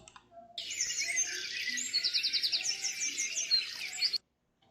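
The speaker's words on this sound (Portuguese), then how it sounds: "som natural, som dos pássaros" Birds chirp and tweet continuously in a bright, busy chorus of rapid trilling calls, fairly close and clear, ending abruptly.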